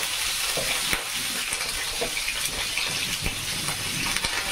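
Pointed gourd (potol) and potato pieces frying in hot oil, a dense, continuous crackling sizzle with faint stirring, close and steady, with no voices.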